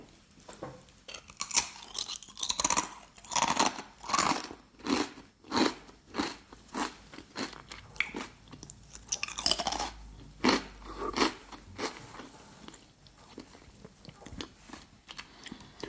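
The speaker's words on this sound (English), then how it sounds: "sounds of crisp eating, or how some people call it, mukbang." Crisps being eaten up close, loud crunchy bites followed by rhythmic chewing crackles, repeating in bursts every second or so with no talk.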